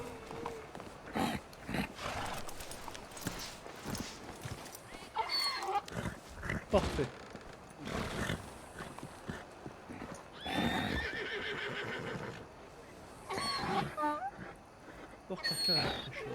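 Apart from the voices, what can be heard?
horse neighing and hooves in video game Red Dead Redemption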